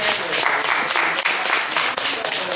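Applause from an audience in an auditorium: a dense wash of many hands clapping at once, loud and sustained through the whole stretch.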